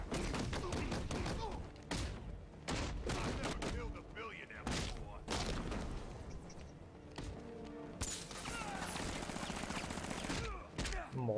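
Rapid bursts of video game gunfire, single shots and fast automatic volleys, loud and close, with a voice talking over the shooting.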